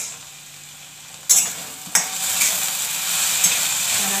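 Okra and tomato cooking in a pan, a steady sizzle of frying punctuated by a few sharp scrapes and clinks as it is stirred, with no voices.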